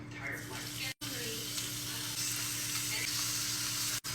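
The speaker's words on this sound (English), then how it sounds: "I'm gonna go ahead and put some oil down. And then put the steak bites in." Steak bites frying in oil in a pan, a constant close hiss and crackle that runs without pause apart from two brief cuts.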